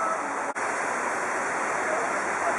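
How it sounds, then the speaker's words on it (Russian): Water runs in a stream beneath a rest area at a Turkish resort, a steady, dense rushing wash with no break. It sounds close and fills the whole stretch. "Прям под тобой вода бежит, струится."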